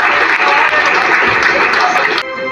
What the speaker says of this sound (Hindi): भरपूर तालियों के साथ